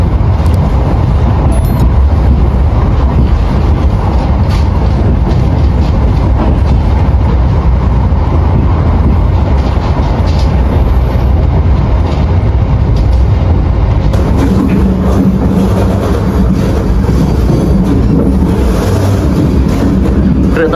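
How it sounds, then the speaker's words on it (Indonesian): A Purwojaya passenger train roars straight through Jatibarang station close by, steady rumbling rail noise with wind buffeting throughout, the tone shifting slightly toward the end. "Purwojaya melintas langsung stasiun Jati Barang."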